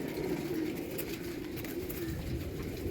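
Pigeons coo in low, rolling murmurs after being let out, several birds overlapping in a steady close chorus with faint flutters and no talk.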